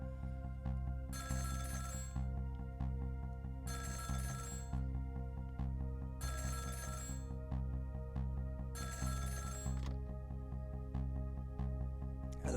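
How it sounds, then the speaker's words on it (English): Telephone ringing in the Nintendo DS game Ghost Trick: Phantom Detective: a bright electronic bell rings in four even bursts with short pauses between, steady and clear over a low continuous game music bed, no talking. "the phone rang"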